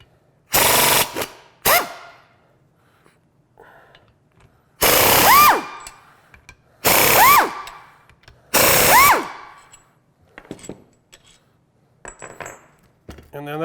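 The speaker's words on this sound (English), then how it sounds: "remove these 3 bolts in the back." A power impact tool removes the three rear steering knuckle bolts during a lift kit install, firing in several loud, close rattling bursts with quiet gaps and small metallic clinks between them.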